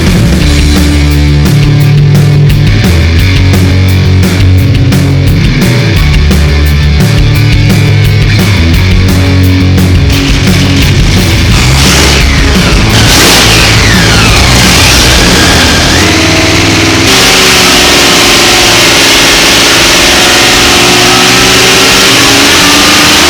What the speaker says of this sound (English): We're going to be dynoing one of our MB850 marine supercharged motors today